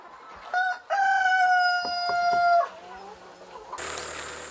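Roosters crow repeatedly at a free-range poultry farm raising fertile eggs at dawn, long harmonic calls rising and falling over a background of clucking hens, followed by a burst of broadband farmyard noise.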